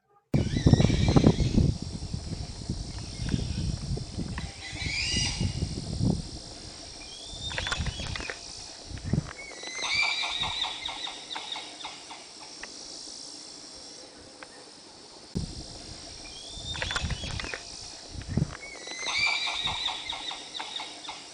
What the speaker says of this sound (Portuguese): a gente chama de relincho porque é muito parecido com o relincho de um cavalo